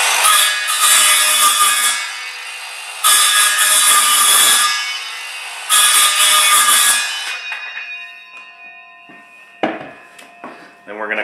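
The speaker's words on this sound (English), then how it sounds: "Cordless saw, pull the guard back, careful." A cordless power saw trims a high spot in a wooden floor in three loud, close bursts of a couple of seconds each, separated by short pauses. Quieter handling clatter follows.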